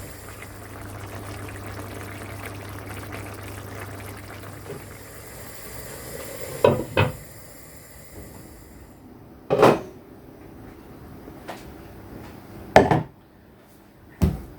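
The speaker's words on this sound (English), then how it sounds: "I'm going to put the lid onto this and let it simmer away" A lid is set onto a pot of simmering British Indian restaurant Rogan Josh curry; a low bubbling hum gives way to a few sharp, separate clanks and knocks of metal on metal in a quiet kitchen.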